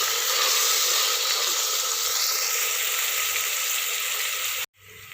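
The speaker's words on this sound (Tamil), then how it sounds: "கத்திரிக்காய் எண்ணெயில் நல்லா வதங்கட்டும்" Brinjal pieces fry in hot oil for biryani, a loud dense hissing sizzle held steady and close, cutting out abruptly just before the end.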